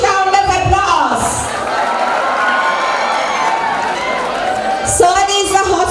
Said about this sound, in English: Welcome them all with huge round of applause.